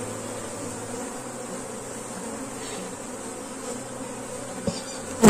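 A captured honey bee swarm buzzes while being settled into a hive box, an even, sustained drone close by, with no voices.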